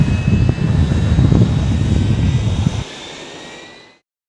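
A turbine-powered Jet class racing aircraft at the Reno air races roars loudly with a rumbling, whining jet engine, then suddenly drops to a softer hiss that fades out.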